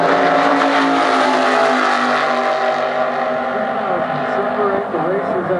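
Darryl Corbin's roadster at the drag racing starting line: a loud, close engine roar that swells and then eases off, with an announcer talking over it.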